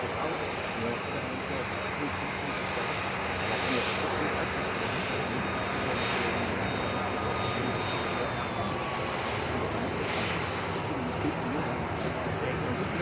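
A Jet2 passenger jet at Leeds Bradford Airport gives a continuous broadband engine roar, loud and steady throughout, with faint chatter from nearby spotters beneath it.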